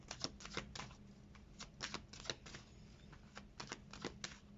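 Tarot cards being shuffled, a run of crisp riffling and flicking bursts in an irregular rhythm, close and fairly quiet with no talk.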